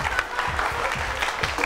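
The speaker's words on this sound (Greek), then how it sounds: "Ποιος σας λέει να χειροκροτάτε?" Audience applause in a comedy show: a steady wash of clapping from a crowd, continuous and fairly loud throughout with no voices standing out.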